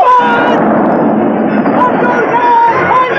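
Continuous heavy booming and rumbling of cannon fire, loud and dense throughout, with shouting voices mixed into the barrage.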